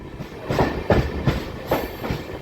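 Amrit Bharat Express rolling along the rails between Tanguturu and Ongole, with steady rumbling and rhythmic clickety-clack wheel beats repeating about every half second, close and moderately loud from inside the train.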